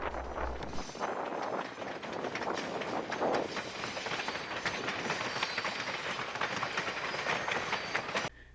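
A New Haven FL9 locomotive-hauled train rolling past through a rock cut with a continuous rumble and rhythmic clickety-clack of wheels on rails, steady and fairly close, then cutting off abruptly.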